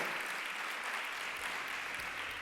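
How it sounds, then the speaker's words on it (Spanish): Sustained, dense applause thanking the speakers at a talk on nature sports communication portals, an even wash of clapping from a large audience, somewhat distant and uniform throughout. "vamos a despedir con un fortísimo aplauso de agradecimiento a Igor Cuesta, Ramón Fuentes y a Remi Trapero"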